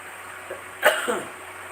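A single short cough close by in a quiet room.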